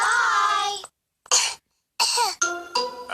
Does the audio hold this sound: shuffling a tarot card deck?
no